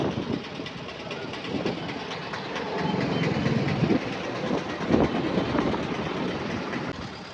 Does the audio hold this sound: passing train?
yes